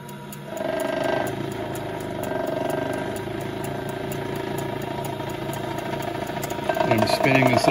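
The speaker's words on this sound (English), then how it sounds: "Bit noisy, I think, because I've got the motor touching the jar here" The motor of a Pearl watch cleaning machine runs with a steady droning hum, made noisier by a rattle where it touches the jar, while someone talks over it and the sound builds slightly toward the end.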